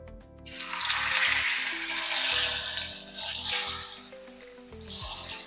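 Spring potato rolls fry in very hot oil, a steady loud broadband sizzle rising and falling across the whole stretch, close up, with no talk over it.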